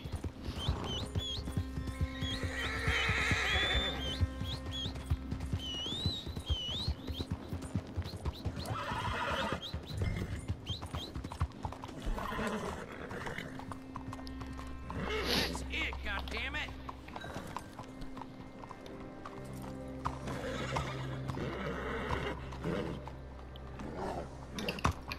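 A horse in Red Dead Redemption 2 whinnies loudly several times amid clip-clopping hooves, with someone talking over much of it and game music and ambience in the background.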